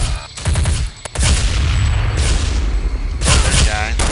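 Gunfire from the Counter-Strike: Condition Zero Deleted Scenes drug lab mission, loud booming shots and bursts repeating across the whole stretch, with a gap near the start and another cluster of rapid fire toward the end.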